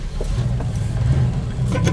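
A 1974 Plymouth Barracuda engine turns over and settles into a steady low, rumbling idle close by, continuous for the whole two seconds with no voices.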